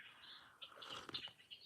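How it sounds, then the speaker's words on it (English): Birds at a busy feeding station on a live feed, with soft chirps and fluttering wing flaps coming faintly and intermittently. "I have my birds on in the background"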